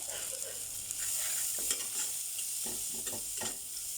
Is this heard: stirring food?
yes